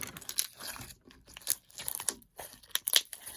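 Clicky slime being squished and pressed makes irregular bursts of crisp crackling and popping clicks, close and fairly soft, separated by short quiet gaps.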